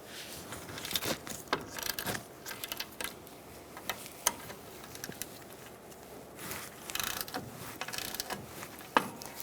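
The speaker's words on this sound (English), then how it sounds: "using a 13mm socket, we are going to break free these bolts" A ratchet fitted with a 13mm socket works at the rear brake bolts of a 1998-2011 Ford Ranger, giving scattered close metallic clicks and ratcheting bursts at an uneven pace, with no talk over it.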